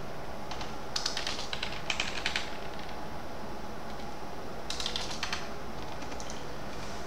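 Someone types on a computer keyboard in quick bursts of crisp key clicks, with pauses between the flurries, close and fairly quiet.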